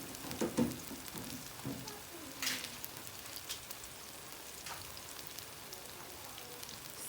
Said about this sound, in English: when you're frying plantain, you can turn it back on it for a second.